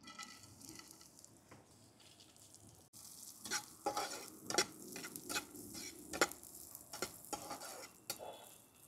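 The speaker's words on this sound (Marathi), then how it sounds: "आपण आता ड्राय फ्रूट कटिंग केलेले भाजून घेऊ" Chopped dry fruits roasting in a pan for sabudana kheer, a quiet crackling sizzle broken by repeated scraping strokes of a spoon that grow busier after three seconds; no voices.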